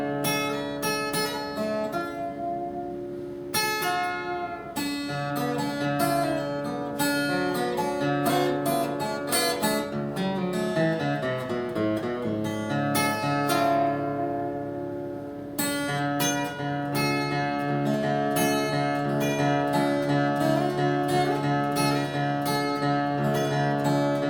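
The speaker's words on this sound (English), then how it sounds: "So you're holding the string down and just bending it up" Fingerpicked acoustic guitar in an alternate tuning, with an alternating bass and string bends on the second string, played steadily and up close with no talk.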